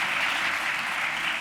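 Studio audience applause, a short dense burst of many hands clapping at an even, fairly loud level with no pauses.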